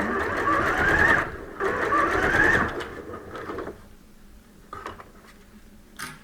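A sewing machine stitches a cuff onto a sleeve in two steady, whirring bursts of about a second each, close and clear, followed by quieter handling clicks and fabric rustle.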